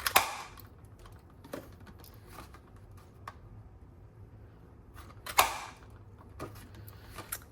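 A handheld paper punch snapping through card stock at the edge of a Christmas craft project, with two sharp, loud clacks about four seconds apart and a few fainter clicks between them, and no talking.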